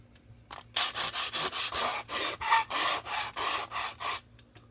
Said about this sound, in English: You don't got to sand hard. And make sure you're pressing evenly.